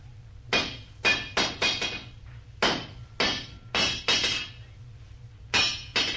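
A blacksmith hammers at a forge: sharp metallic strikes in uneven clusters, some single blows and some quick doubles, ringing briefly over a low background hum.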